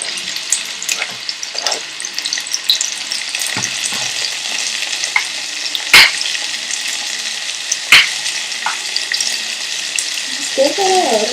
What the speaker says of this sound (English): Okay, now these have begun to bubble. Add 2 tomatoes finely chopped.